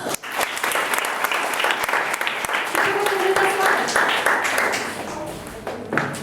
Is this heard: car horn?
no